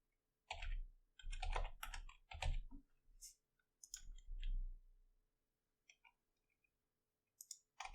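Quick bursts of keystrokes clatter on a computer keyboard, close and crisp, in two clusters of rapid typing separated by a pause, with a few isolated clicks afterward.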